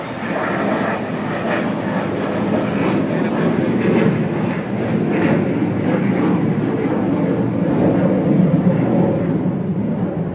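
A fixed-wing airplane passing overhead, a steady loud broadband engine roar that stays constant throughout, with faint talk beneath it.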